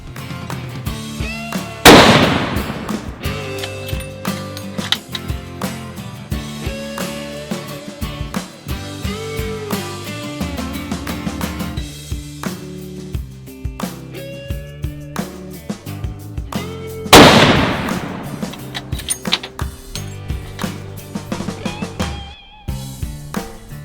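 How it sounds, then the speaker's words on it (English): A bolt-action rifle fires two loud, close shots at an outdoor range, spaced about fifteen seconds apart, each with a sharp crack and brief decay, between quieter stretches of background noise. "so I'm gonna shoot 2 more shots"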